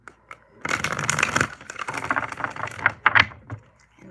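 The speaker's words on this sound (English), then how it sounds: "I'm going to do one more shuffle." Tarot cards are shuffled close up in a dense, papery riffling rush of flutter and snapping, with a few sharp taps at the start and end.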